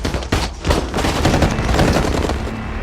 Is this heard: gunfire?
yes